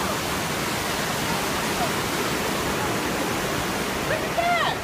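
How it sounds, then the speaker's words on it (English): Wahclella Falls on its trail in the Columbia River Gorge, a steady, loud broadband rush of falling water filling the whole stretch, with faint voices briefly under it near the end. "That's the waterfall, guys."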